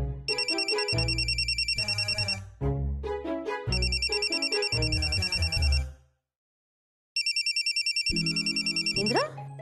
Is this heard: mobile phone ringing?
yes